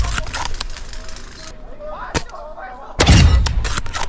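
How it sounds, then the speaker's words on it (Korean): Sniper rifle shots sound in a large-scale 50 vs 50 survival shooter video game as sharp single cracks, one mid-clip and a louder blast near the end, with game sounds and voices in the background. "아군이 A 지역을 뚫을 수 있게 해당 지역의 적을 저격합니다"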